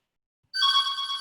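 A telephone begins ringing abruptly after a moment of silence, a bright steady electronic ring, close and alone.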